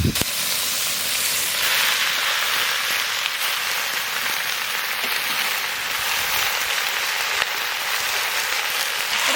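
Greens added to a hot pan in which fish has just been fried, giving a loud, continuous hiss and sizzle with faint crackles that holds steady throughout. No voices.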